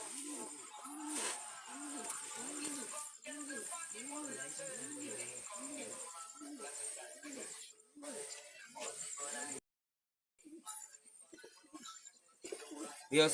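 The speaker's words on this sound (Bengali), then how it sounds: "এই আর একটা কবুতর আপনাদের মাঝে শর্ট করাচ্ছি" A pigeon coos over and over in a steady rhythmic pattern close by, with hissy background noise and a brief pause near the end.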